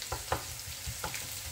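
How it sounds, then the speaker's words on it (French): Onions frying in a pan for a marinated capitaine fish dish, a steady soft sizzle with a few brief stirring scrapes, close and alone with no voices. "Je vais laisser cuire les oignons, moi, avant de mettre de la ciboulette."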